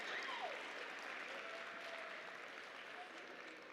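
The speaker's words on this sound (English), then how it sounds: "let's give them a big round of applause" Quiet, distant applause from an audience at an awards event honouring polytechnic culinary students, a soft continuous patter with a brief whoop and a faint whistle near the start.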